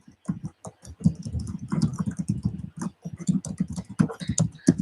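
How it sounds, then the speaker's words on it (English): Rapid typing on a computer keyboard, a dense run of close, crisp keystrokes with brief pauses between bursts. "I'll type it in for you."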